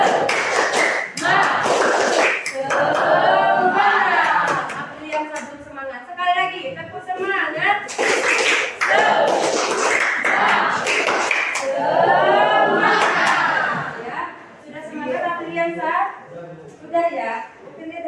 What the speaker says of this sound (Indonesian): Kita tepuk tangan dulu yang bersemangat ya.